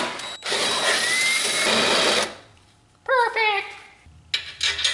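A handheld power drill whirs for about two seconds, close and steady, during work on a mud mower transaxle relocation; speech and brief clatter follow afterward.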